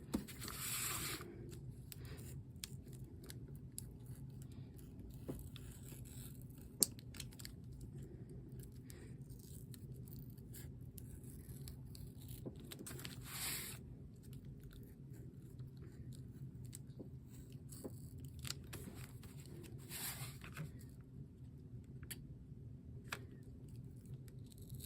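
Scissors or a craft knife cut out a homemade stencil at a brisk pace, giving soft, close snipping and scraping strokes that keep going over a low steady background hum, with a few louder cuts.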